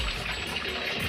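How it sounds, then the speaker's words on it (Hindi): Water gushes steadily from a household tap while a cooler is being cleaned on a summer morning, a continuous close rushing splash. "नल बंद करो दादा"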